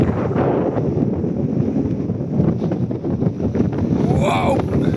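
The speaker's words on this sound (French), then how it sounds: "Il y a beaucoup trop de vent, c'est abusé." Strong wind on a high mountain pass buffets the microphone with continuous loud roaring gusts, and a voice can be heard under it.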